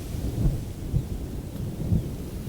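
Low, rumbling thunder rolling in the distance over the Moru area, a continuous deep growl with a few soft swells over a faint rain-like hiss.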